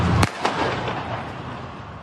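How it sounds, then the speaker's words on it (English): A police officer's gunshot rings out in a Paris suburb: one sharp, loud bang, a fainter second pop moments later, then dull outdoor background noise. "This is the sound of a police officer shooting a 17-year-old Arab French boy in the suburbs of"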